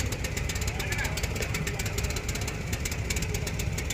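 A boat engine chugs on the Ganges near a Varanasi ghat, a faint, steady mechanical thrum with rapid regular pulses, while voices talk nearby.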